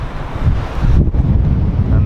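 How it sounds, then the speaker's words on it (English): Violent ocean waves at San Sebastian, a steady loud roar of surf mixed with heavy wind buffeting the microphone, continuous throughout with no clear talking. "on the other side, you got these violent ass waves"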